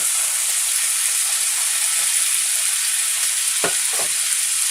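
Pasta goes into a hot pan and a loud, dense hiss of frying fills the scene, steady throughout with a couple of brief scraping knocks toward the end.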